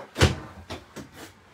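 A wooden kitchen drawer in a 2020 Grand Design Momentum 29G travel trailer toy hauler slides and knocks shut, one firm thump followed by two lighter bumps, close and clear.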